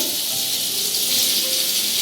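Potatoes frying in oil for a Bengali bora alu dalna, giving a steady, even sizzle and hiss that stays constant throughout the short stretch without any talk.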